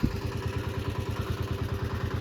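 A heavy diesel tractor engine chugs in a fast, steady rhythmic thump, loud and close, running continuously under load in a muddy field.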